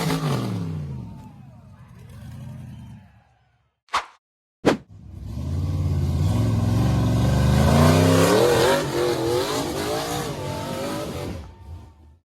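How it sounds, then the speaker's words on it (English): A gray off-road buggy's engine roars and revs loudly as it powers up a slippery, boulder-covered forest slope, with two sharp bangs mid-climb and sustained, wavering throttle under faint background voices. "The gray buggy with an American flag was powering up the slippery boulder slope"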